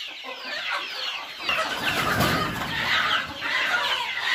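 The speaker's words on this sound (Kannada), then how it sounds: "ಕೋಳಿಗಳನ್ನ ನೋಡಿ ಸಣ್ಣ ಮರಿಯಿಂದ ದಪ್ಪ ಮರಿ ಗಂಟ ಎಲ್ಲ ಸೈಜು ಡಿಫ್ರೆಂಟ್ ಡಿಫ್ರೆಂಟ್ ಸೈಜ್ ಇದೆ" Native country chickens of mixed sizes, from small chicks to grown birds, raised naturally on a farm, cluck and murmur steadily close by, with overlapping calls and no talk.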